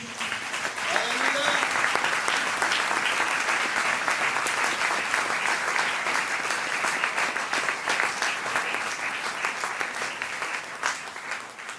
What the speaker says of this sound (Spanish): Denle un aplauso a Cristo Jesús